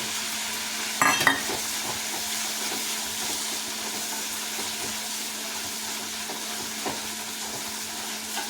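Two small tomatoes sauté in a masala, a steady broad sizzle with a brief clatter of stirring near the start, continuing evenly without talk.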